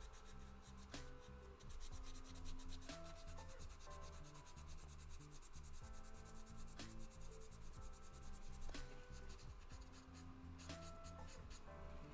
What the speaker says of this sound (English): Sanding with water is more gentle.